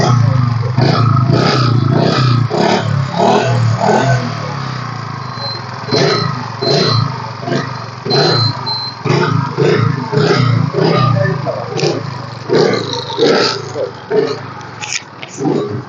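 A second-hand motorcycle engine runs loud and close, with uneven revving and mechanical clatter throughout, while people talk over it.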